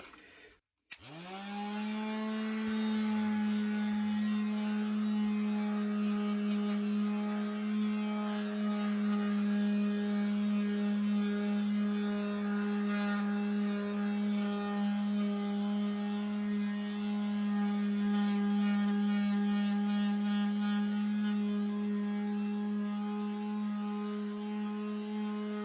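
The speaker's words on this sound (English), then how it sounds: "I'm just going to give it a bit of a rub down with maybe a P240 on this sander" An electric sander with P240 paper rubs down a wooden motorhome kitchen surface, starting up abruptly and then holding a loud, steady whining drone close by for the whole stretch.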